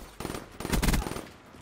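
Rapid gunfire in Call of Duty Black Ops 3 comes as quick bursts of close, punchy shots, with a dense cluster in the middle before it trails off.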